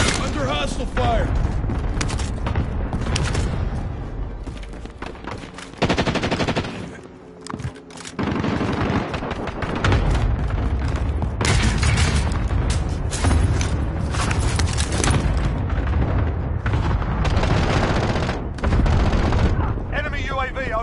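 Gunfire in the video game Warzone: loud bursts of rapid automatic fire and scattered shots with booms, continuing across the whole stretch with a short lull midway, while voice callouts sound over the action.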